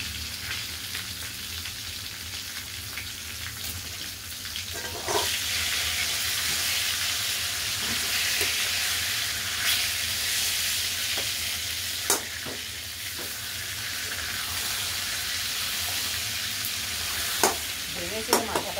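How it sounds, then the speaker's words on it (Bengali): A shol fish head fries in a pan with a continuous loud sizzle, joined by intermittent scraping and clinking stirring strokes, close up and with no voices. "ভেবেছিল মাথাটা ভাজি, তাহলে ভাজা হবে।"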